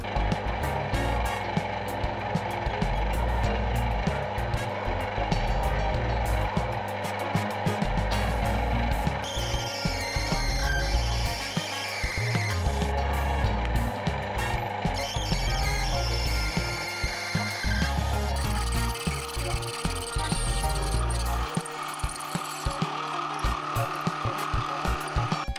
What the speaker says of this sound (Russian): Сверлю сквозное отверстие, нарезаю резьбу М8